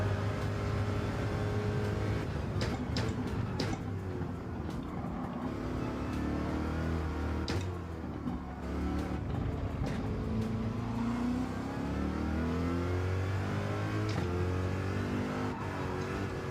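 Race car engine revving and shifting through gears in a Bathurst racing video game, loud and continuous with rising and falling pitch, no talk over it.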